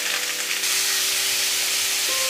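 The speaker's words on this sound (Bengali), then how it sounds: "এবার এগুলো একটু ভালো করে ভাজা ভাজা করে নেব।" Chopped onion, garlic and mixed vegetables fry in a pan, a loud, constant close-up sizzle and hiss that grows slightly fuller partway through, with nobody talking.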